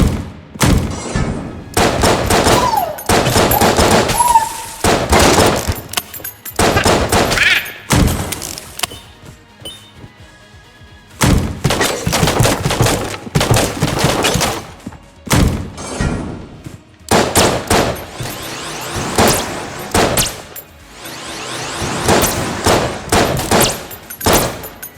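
Gunfire and bullet impacts from the video game Enter the Gungeon come in dense, loud volleys of rapid shots and thuds, broken by short quieter gaps.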